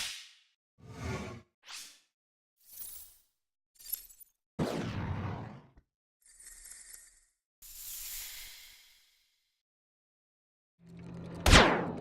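A designed sound effect built from a fireball whoosh, glass sounds and can tops dragged across a floor plays as a series of separate sharp bursts, rushing swooshes, glassy shatters and scraping rattles, ending in a loud, punchy hit.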